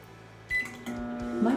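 An Amazon Smart Oven answers a button press with short electronic beep tones, two or three distinct pitched notes spread over about a second, close and clear above quiet room noise.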